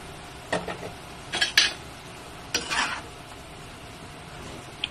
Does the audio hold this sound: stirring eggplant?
yes